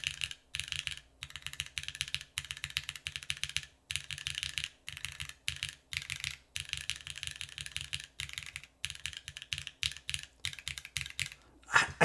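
Someone types on a custom-built Machina Tiga mechanical keyboard in a steady run of crisp, clacky keystrokes with brief pauses between bursts, close-up, with no voice over it.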